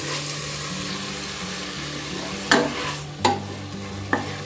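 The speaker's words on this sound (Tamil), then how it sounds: "ஸோ இதையும் சேர்த்து ஒரு வதக்கி விட்டுறலாம்." Murungai keerai (drumstick leaves) sautéing in castor oil in a pan, with a steady frying sizzle and a few sharp spoon scrapes as the greens are stirred, close and alone without talk.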